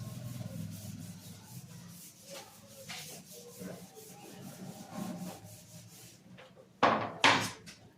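A classroom board rubbed clean with a duster, giving a steady scrubbing rasp with a few louder swipes toward the end, heard close and alone without talk.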